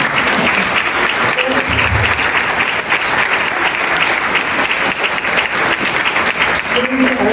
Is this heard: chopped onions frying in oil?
no